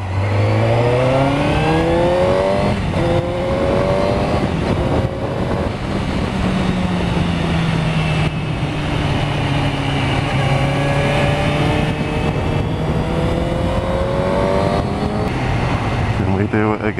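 A motorbike engine on a morning ride runs loud and close, rising and falling in pitch as it revs and shifts, with the droning note carrying continuously throughout.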